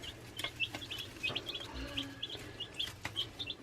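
One-week-old baby chicks peep in a brooder box under heat lights, a busy stream of short high chirps repeating in quick clusters, close and clear over a low steady hum.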